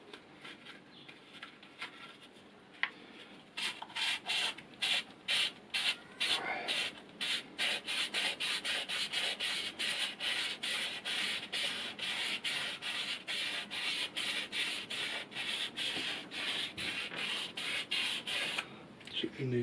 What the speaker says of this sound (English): I take my sandpaper and I'm going to give it a bit of a cleaning